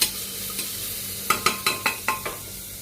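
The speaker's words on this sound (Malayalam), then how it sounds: "ഉള്ളി നല്ലപോലെ റോസ്റ്റായി." Onions salted and roasting in a hot pan until slightly brown sizzle softly, punctuated by a quick series of sharp spoon taps and stirring clacks against the pan.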